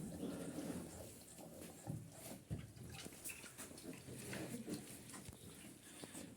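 Low, rough grunting from several pigs close by, piglets and a sow, irregular and continuous, with some shuffling and scattered squeals in the background.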